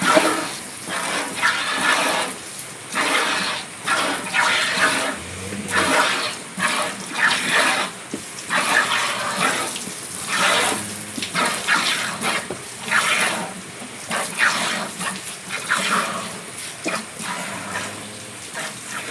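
Water gushing and splashing, likely from a tap filling a trough for a cow on a farm in Kerala, steady and fairly loud across the whole stretch with uneven surges, no talk over it.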